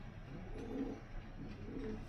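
Soft, low cooing from a pigeon repeats twice over a steady background hum, close but quiet.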